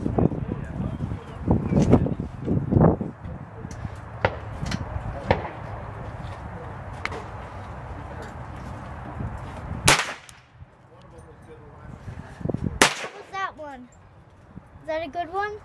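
A Ruger 10/22 rifle fired at about 20 yards outdoors: a few sharp, short cracks spaced apart, interleaved with people talking, with two louder, cleaner reports standing out toward the end.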